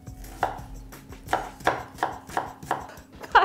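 A knife finely chops an onion on a cutting board, about nine sharp close knocks in a fairly even rhythm, heard alone with no talking.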